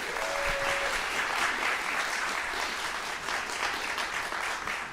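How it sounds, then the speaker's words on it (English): Sustained, dense applause from a concert audience for the Cerus Quartet at a chamber music competition final, loud and even throughout with no talk. "One more round of applause."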